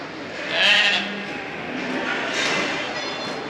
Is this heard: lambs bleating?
yes